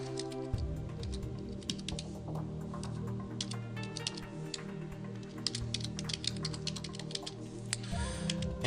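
Rapid clicking of fingers typing on a computer keyboard while entering account details for a new LinkedIn profile, with a steady patter of close keystrokes, no talking, over a faint tonal background hum.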